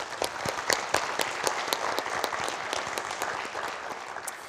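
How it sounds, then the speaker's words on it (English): Audience applause at a youth entrepreneurship celebration, many hands clapping steadily and fairly close for the whole stretch with scattered louder claps and no talk over it. "So let's give a big round of applause for Mary."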